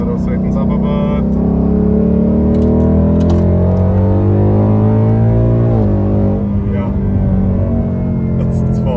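A Ford Mustang GT with the Coyote 5.0 V8 and an X-pipe exhaust revs hard and climbs steadily in pitch as it accelerates, loud and close, with a brief dip before rising again; voices talk faintly beneath it.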